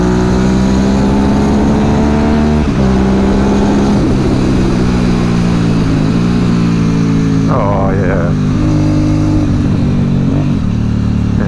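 Aprilia Dorsoduro 750 motorcycle engine droning steadily while riding, its pitch dipping at a few quick upshifts, with a rider talking over it throughout.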